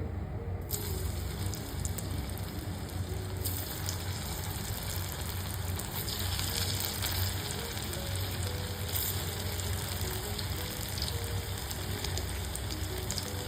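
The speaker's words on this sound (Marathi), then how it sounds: "इथे तेल जे आहे ते व्यवस्थित तापलेलं आहे आणि आता आपण वड्या ज्या आहेत त्या तळवून घेऊ" Colocasia leaf rolls (alu vadi) fry in hot oil over medium flame, producing a continuous, soft, bubbly sizzle with light crackling, steady and unbroken, with no speech.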